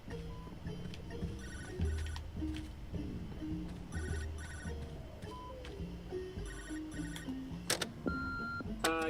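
A phone ringing in the High on Life video game, a repeating electronic ringtone chiming in regular bursts over a low, busy game background, moderately quiet.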